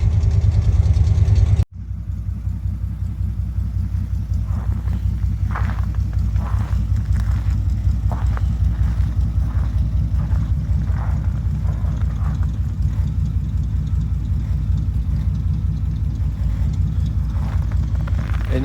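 A 1978 Suburban engine idles after a cold start, a steady low rumble with even rhythmic pulsing, close and loud, following a brief louder burst at the start.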